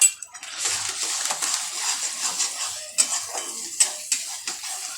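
A spiced vegetable mixture of peas and potato with homemade masala and garam masala being stirred and sautéed in a pan, with bright continuous sizzling and repeated metallic scrapes and clinks of the spoon close by.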